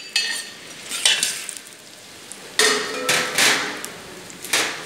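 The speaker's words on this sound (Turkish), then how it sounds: "Yağımızı döküyoruz. Dökelim ustam. Zeytinyağı. Soğanımızı ilave ediyoruz." Onions added to hot olive oil in a pan for a vegan celery dish: a soft steady sizzle under repeated clanks and scrapes of a utensil stirring in the pan, close and moderately loud.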